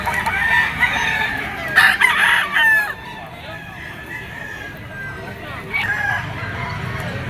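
Several roosters crow at a crowded Grotto pet market stall in the Philippines where chickens are sold, a couple of loud nearby calls up front, then fainter crowing amid steady market chatter and bustle.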